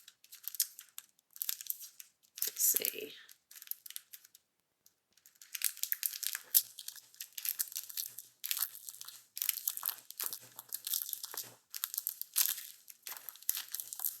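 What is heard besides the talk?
handling Whispers of Fall Roycycled decoupage paper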